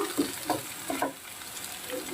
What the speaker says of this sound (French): Pommes de terre nouvelles frit